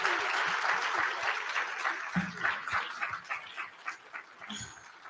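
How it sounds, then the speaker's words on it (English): Conference audience applauding at a plenary session, clapping dense at first then thinning into scattered claps, with a few brief voices and sounds mixed in. "Give them a huge round of applause."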